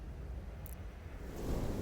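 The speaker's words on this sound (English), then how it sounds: "A gust of dry wind pushes us inside the tower." A dry gust of wind rushes through the fantasy realm of Reverie in the video game Harmony: The Fall of Reverie, a steady airy roar that swells slightly louder toward the end, with no voices.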